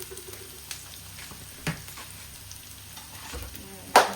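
Chopped tomato drops into a hot pan with cumin for a Pakistani khagina egg breakfast, giving a soft steady sizzle with a few stirring knocks and a sharper spatter burst near the end.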